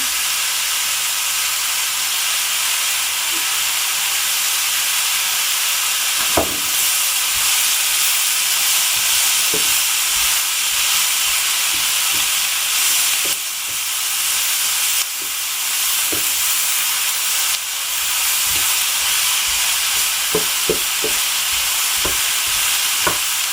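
Mushroom and zucchini sauté sizzling loudly in a hot pan as pomegranate sauce is poured in, a constant close hiss with scattered stirring clicks and scrapes.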